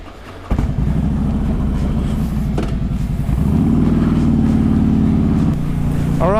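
A Harley Davidson Road King motorcycle is ridden in winter, its engine a loud, continuous rumble that rises in tone partway through, heard up close with steady wind noise and no talk.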